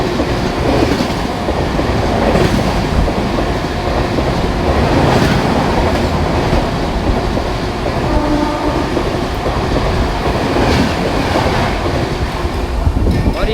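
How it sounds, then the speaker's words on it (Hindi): An express train arrives at Palghar railway station with loud, continuous wheel-and-track rumble and rhythmic clatter from rail joints, the rolling noise steady and close throughout. "ट्रैक साउंड के साथ।"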